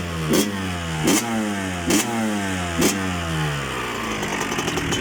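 A Yamaha YZ 125 two-stroke dirt bike on its new stock exhaust idles with a crackling buzz, then is blipped four times in quick, evenly spaced revs that each climb sharply and drop back, loud and close.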